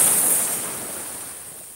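Sea waves washing up onto a beach, a close, broad hiss of surf that swells at first and then slowly fades as the water recedes, heard alone without talk.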